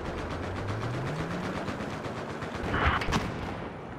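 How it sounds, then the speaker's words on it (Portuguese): Gunfire in Battlefield 4 aimed at a helicopter, a fast run of repeated automatic shots with a brief louder burst near the end, over a steady droning game background. "Dá um tiro no helicóptero, não destrói."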